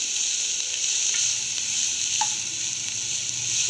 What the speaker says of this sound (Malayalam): വലിയ സവാള അരിഞ്ഞത് ആഡ് ചെയ്ത് കൊടുക്കാം. സവാള നന്നായിട്ട് വാടുന്ന വരെ നമുക്ക് ഒന്ന് ഇളക്കി കൊടുക്കാം.